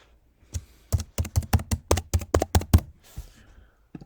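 Keys tapped in a quick run of about a dozen distinct strokes on a computer keyboard while a username and password are entered, close and crisp, with no talking.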